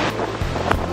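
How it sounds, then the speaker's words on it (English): A strong, tall waterfall near Crater Lake sends up a loud, dense roar of falling water. The rush is close and steady, with gusts buffeting the microphone through the brief moment. "This waterfall is so strong"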